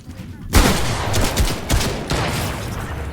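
Loud gunfire from a Barrett sniper rifle in a video game, with a sharp onset after a quiet moment and several heavy shot bursts rolling over dense background noise.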